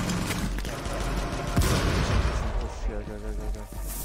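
Grenade blasts and rapid gunfire in a shooter video game, a dense continuous barrage of booms and bursts with several sharper hits.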